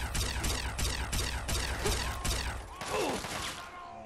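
Plasma rifle fire aimed at super mutants in Fallout 3, a rapid train of loud, evenly spaced synthetic zaps close up, giving way to a swirling, wavering energy burst near the end.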